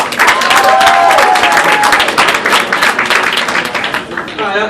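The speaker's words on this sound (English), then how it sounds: "Who here has, by round of applause, been to a comedy show here before?" A comedy club audience at a live stand-up show bursts into loud, sustained applause and cheering, with whoops from the crowd that slowly taper off near the end.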